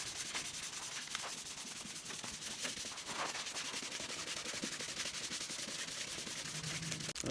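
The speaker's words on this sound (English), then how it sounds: "I've got the 1200 grit, very, very fine sandpaper. Just going to sand that down," A car bumper is hand-sanded with very fine 1200 grit sandpaper, making a continuous close scratchy rubbing with quick back-and-forth strokes, fairly quiet and with no talking.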